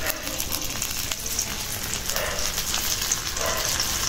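Ginger, garlic, cumin and coriander paste frying in hot oil give a steady, dense sizzle with soft crackles throughout, close and continuous, with no one talking.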